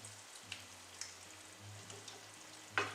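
Apples stewing in a pan give a quiet, steady low sizzle and soft bubbling, with a few faint clicks and one brief louder clatter near the end, with no voices.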